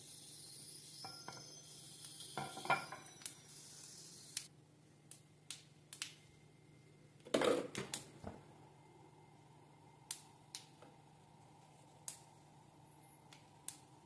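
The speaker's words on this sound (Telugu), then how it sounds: "పోపు చిటపట్లాడుతుంది చూసారా." Tempering spices with dried red chilies crackling in hot oil, sparse sharp pops and snaps scattered over a faint low hum, with one louder sputter midway.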